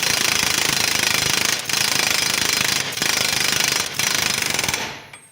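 A pneumatic impact gun hammers loudly and continuously on a car's front-axle CV joint wheel part, with three short pauses between long bursts, then cuts off at the end.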